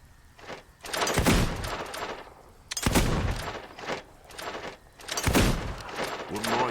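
Gunfire in the Xbox video game Fable 2: three loud bursts of shots, each a sharp blast followed by a rolling echo, spaced about two seconds apart.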